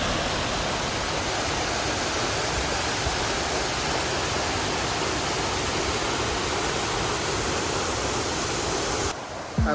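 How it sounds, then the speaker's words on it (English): Creek water tumbling down the Cascades at Ricketts Glen State Park, Pennsylvania: a dense, steady rush of white water close by, running unbroken until a brief change near the end. "Just walking right alongside the creek, the Cascades."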